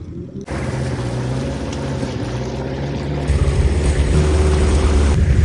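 A fishing boat's engine droning loudly and close, a steady throbbing rumble whose note shifts partway through as the throttle changes.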